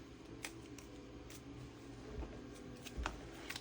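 Paper cash-budget inserts are shuffled by hand, giving faint, soft flicks and rustles at irregular moments over a low, steady background hum.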